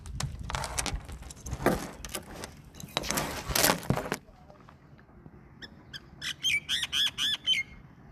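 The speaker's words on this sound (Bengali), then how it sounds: "পাখির শব্দ দেখছেন?" Birds overhead give a rapid run of about six harsh, repeated squawks near the end, after loud rustling and handling noise from a nearby microphone.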